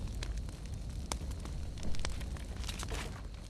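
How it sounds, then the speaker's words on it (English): A campfire burning in the Fortnite battle royale game, with steady crackling and popping over a dense rumbling background throughout, no voices. "I'm using the campfire."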